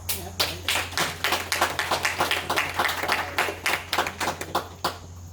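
At a borough council meeting, a small group claps for a local community member, distinct close hand claps in a quick uneven rhythm over a low steady hum, with faint voices mixed in before it tapers off.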